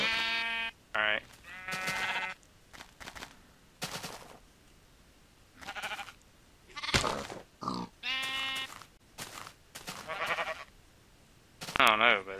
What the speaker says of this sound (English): Oh, a bunch of little baby sheepies.